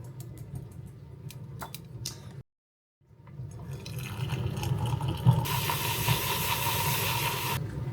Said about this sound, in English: really good if you are like frothing hot milk